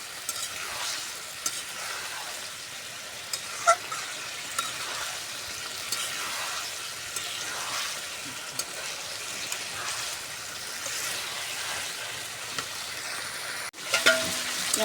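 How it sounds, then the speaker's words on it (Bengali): Curry being sautéed and stirred in a pan, with steady frying sizzle and repeated scraping strokes of a spoon throughout, ending in a brief louder clatter. "আর এদিকে আমি তরকারিটা সুন্দর করে কষাই দিচ্ছি।"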